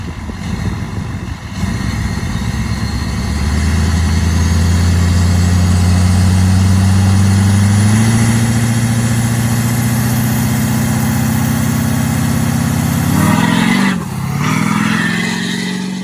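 A 600 hp Duramax LBZ diesel engine in a go-kart revs hard for a downhill launch, its loud, close drone climbing in pitch in steps over several seconds, then briefly dropping and surging again near the end.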